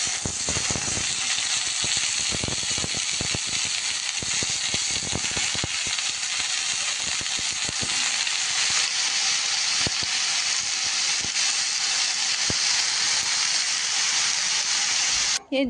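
Bombay duck fish, already fried, cooks on with Malabar spinach and other greens in a pan, giving a steady loud sizzle and hiss with scattered crackles throughout.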